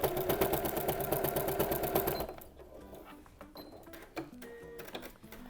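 A sewing machine feeds fabric strips and wadding for a Bosal jelly roll rug, its needle chattering in a fast, steady rhythm close by for about two seconds before stopping, then a few quieter mechanical clicks and handling sounds.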